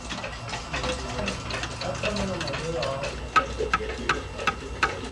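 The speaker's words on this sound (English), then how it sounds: "I like the ticking. It has this ticking of all the clocks in here." Many clocks in a clockmaker's workshop tick together, a dense overlapping patter of sharp clicks with a few louder knocks toward the end, under a low hum and some background murmur.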